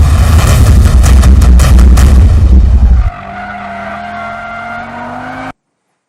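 A 2022 Audi RS3 race car drifts past on a racetrack with screeching tires, loud and harsh, then the engine whine fades into a softer steady drone before cutting to silence.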